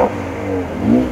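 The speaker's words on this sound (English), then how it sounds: "Oh, it's that nice rumble." A Mercedes A35 AMG engine revs, a close, loud rumbling growl that dips and rises again in a short burst, with no talking.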